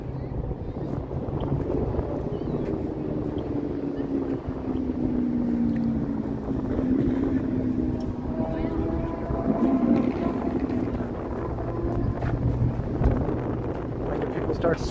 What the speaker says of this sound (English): There's a bit of a wind.